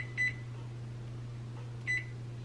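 Two short electronic beeps from a microwave oven control panel as buttons are pressed, spaced about two seconds apart over a steady low appliance hum.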